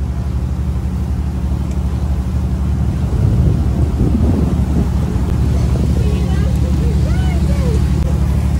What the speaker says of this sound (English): It's windy, it's raining.